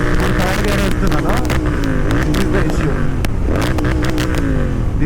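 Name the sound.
auto rickshaw engine driving in third gear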